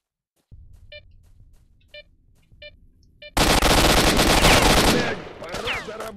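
Gunfire in the video game S.T.A.L.K.E.R.: Shadow of Chernobyl: sparse single shots with electronic beeps give way to a loud, dense burst of sustained automatic fire that fades into scattered noise.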